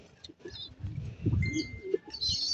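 Light checkered racing pigeon cooing close by, soft low throaty coos rising in the middle, with faint chirps from other birds and some background noise around it.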